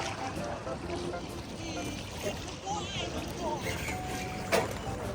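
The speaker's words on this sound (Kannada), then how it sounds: "Boat ride." Boat ride on water on a Tam Coc boat tour in Vietnam, a steady wash of water and hull noise with occasional splashes, under people talking nearby.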